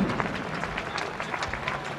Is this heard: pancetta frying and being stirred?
no